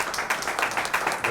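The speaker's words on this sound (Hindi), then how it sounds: "जोरदार तालियां" Audience applause at a music launch event for a YouTube channel, a short burst of steady clapping from a crowd with no voices over it.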